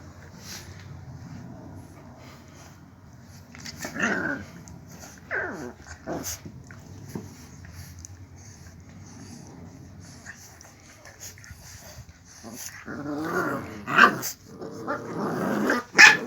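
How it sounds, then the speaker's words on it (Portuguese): Boxer dogs growl and bark in short, close bursts during a handling session, with quiet stretches between and a flurry of louder barks near the end. "Vai começar aí a cachorrada."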